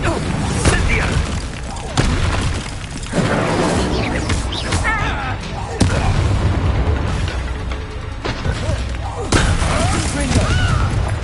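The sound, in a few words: Confringo fire-blast spell in Hogwarts Legacy video game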